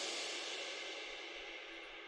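A high-end crash cymbal layer drenched in Valhalla VintageVerb reverb washes out as a bright, airy hiss that sustains and slowly fades alone, with no low end.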